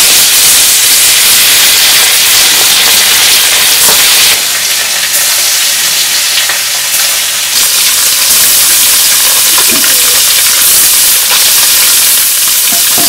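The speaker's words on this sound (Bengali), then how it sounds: "তেল গরম হয়ে গেছে আর মাছটি দিয়ে দিই" Fish frying in hot oil in a wok for a village-style fish curry, with a loud, steady sizzle and hiss that runs the whole time. No one speaks.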